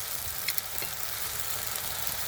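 Masala spice paste of chili powder, coriander powder and ginger paste sizzles steadily in a pan, a soft continuous frying hiss with a few faint stirring clicks, no voices.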